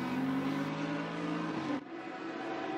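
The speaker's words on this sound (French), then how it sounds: "si vous aimez le bruit des moteurs" GT3 race car engines roar at Misano during a Blancpain GT prologue session, a loud sustained high-revving drone that cuts off sharply into a quieter engine sound.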